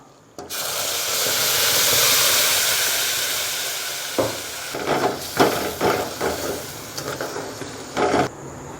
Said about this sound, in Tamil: ஏற்கனவே நம்ம மிக்சியில் அரைச்சி வச்சுருக்க அந்த தக்காளி சாறை சேர்த்துக்கலாம்